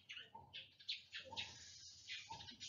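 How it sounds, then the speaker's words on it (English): Birds chirp outside, faint and a little distant. Their repeated short, bright chirps come in a steady rhythm over a soft background hiss, with no talk. "These birds are killing me."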